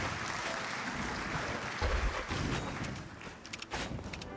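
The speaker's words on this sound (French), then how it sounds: "Vous pouvez applaudir." Audience applause at a live speedrun charity event, a steady broad clatter of clapping from a crowd that tapers off toward the end.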